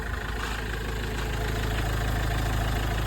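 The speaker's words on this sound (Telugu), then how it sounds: "ఒకసారి మీరు ఇంజన్ సౌండ్ చూసుకోవచ్చు," A used Mahindra XUV500 W8 in good condition idles close by, its diesel-like engine giving a steady, even low rumble with a faint rhythmic ticking and no other sounds.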